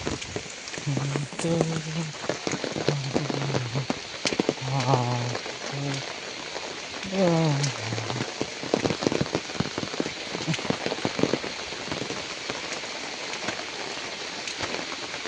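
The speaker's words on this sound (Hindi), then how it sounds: "थोडा पाऊस पडला" Rain falls steadily outdoors, a constant patter of drops on surfaces running throughout, while voices talk intermittently over it.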